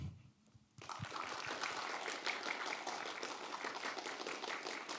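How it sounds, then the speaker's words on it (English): After a brief quiet moment, a crowd at an esports graduation ceremony bursts into sustained applause, a dense wash of clapping that continues steadily to the end. "one more round of applause for everybody that graduated"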